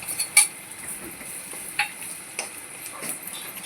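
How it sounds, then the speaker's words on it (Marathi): Masala spices frying in oil in a pan while a cook stirs, with a soft continuous sizzle and occasional metallic clinks of a utensil against the pan. "हे बघा आपला नेहमीचा मसाला आहे त्याला आपण तेलामध्ये टाकणार आहोत"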